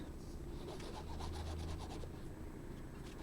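Paper is rubbed around on an ink pad, making a very quiet, continuous soft scrubbing sound close by with no voices.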